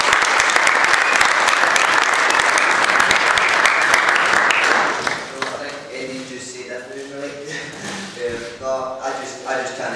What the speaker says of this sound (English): Please give us a round of applause for Ricky Burns.